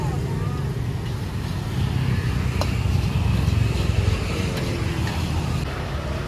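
Motorbikes idle and pull up at a roadside food stall in Bang Krachao, Thailand, making a steady, close low engine rumble throughout while someone talks over it.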